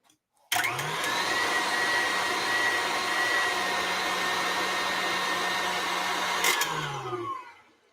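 A stand mixer whips aquafaba meringue, starting abruptly with a loud, steady motor whine that holds for several seconds, then winds down at the end.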